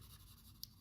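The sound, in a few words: coloring with alcohol-based markers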